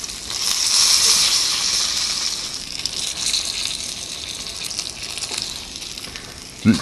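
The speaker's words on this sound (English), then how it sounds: "you can almost hear like the fat dripping out of it." Japanese wagyu beef sears in a hot pan, its rendering fat sizzling in a loud, steady hiss that swells and eases, with a brief clatter at the very end.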